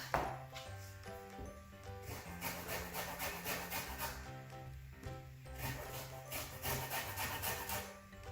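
Washed limes zested on a grater, rhythmic rasping strokes repeating close by at moderate level, over faint background music.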